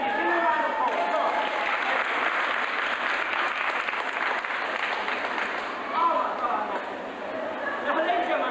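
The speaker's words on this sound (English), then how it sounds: "Give me a round of applause." Crowd on a 1994 UK and France sightseeing tour breaking into applause, a continuous wash of clapping from many hands, steady and fairly loud, with a faint murmur of voices beneath.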